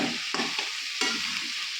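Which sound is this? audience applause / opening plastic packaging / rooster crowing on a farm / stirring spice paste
stirring spice paste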